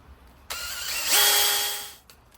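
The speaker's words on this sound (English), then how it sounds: "You just take your drill, put this guy in here, and stick it out a little bit and just go to town." A power drill spins a wire brush to scrub rust and grime off a car door handle pin, a loud steady whir that rises in pitch midway, then winds down and stops.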